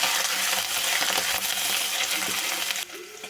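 Spoon stirring coriander powder, spice powder and garlic paste through a chicken curry base in a pan, a steady close scraping and sizzling texture that continues throughout, then drops away briefly at the end.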